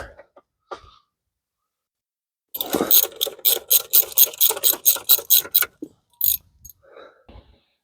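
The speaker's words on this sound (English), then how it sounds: "just going to snug them with my little 1/4 inch ratchet here" A small 1/4 inch ratchet snugs bolts on a Dodge Dart 1.4L turbo engine, producing a quick run of about a dozen sharp, evenly spaced clicking bursts after a quiet pause, with a few faint knocks around it.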